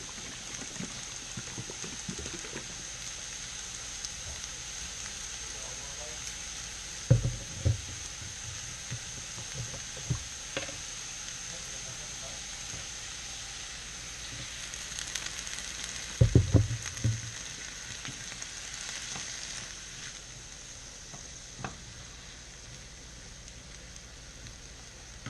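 Soy Vay teriyaki sauce sizzling in a pan for a ramen noodle stir fry, a soft, steady hiss at moderate distance, broken by a couple of brief clatters from the pan.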